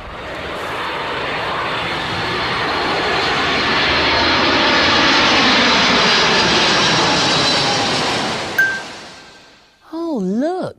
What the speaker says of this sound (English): here's a plane up